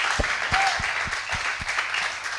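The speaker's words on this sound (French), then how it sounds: "Je pense qu'on peut acclamer plus que ça." Audience applause and cheering for a church choir during a broadcast programme, a steady wash of clapping with a few louder claps standing out, continuous and fairly close throughout.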